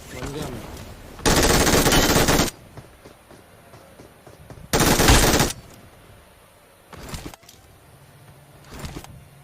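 Automatic gunfire in the mobile game BGMI: two long, loud rattling bursts, then a few shorter sharp volleys separated by quieter gaps of game ambience.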